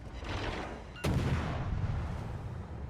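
A deep, booming naval gun salvo from World of Warships Legends erupts about a second in, a sharp crack followed by a long rumbling roll, after lower distant battle noise beforehand.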